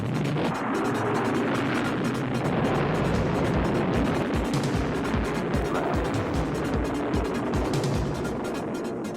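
Rocket engines roar after main engine ignition at launch, a dense, sustained rumble with crackling low-end bursts lasting the whole stretch.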